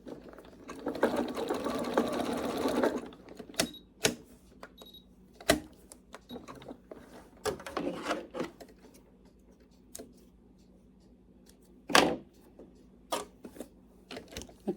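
Sewing machine stitching paracord into a Christmas basket: a dense continuous whir for about three seconds, then short stop-start bursts and sharp clicks as the cord is maneuvered, close and clear with no talk.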